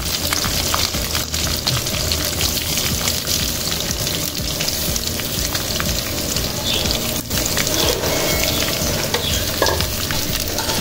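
Maasi dry fish masala with onion and green chilli fries in oil without water, giving a loud, steady, close sizzle that continues unbroken throughout, with no voices.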